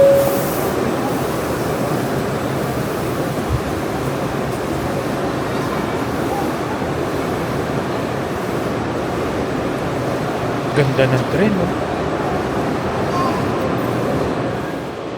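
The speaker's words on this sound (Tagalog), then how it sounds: "This is the Nagasaki Shinkansen Station train." Nagasaki Shinkansen train at the station, a steady broad rumble and hiss of rail noise throughout, with a brief spoken remark in the middle.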